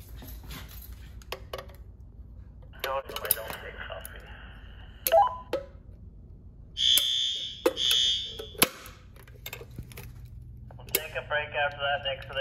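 A school fire alarm system in a building from 1958 being tested, with shrill electronic tones and high-pitched beeping bursts sounding intermittently, mixed with clicks, clatter and background voices.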